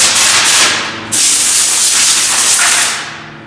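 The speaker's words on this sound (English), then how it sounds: "We just gotta spray this little area so that we get a good coverage." Loud, close hiss of a spray gun painting the trunk lid of a 2011 Honda Civic in two long bursts separated by a brief break, the second fading out at the end.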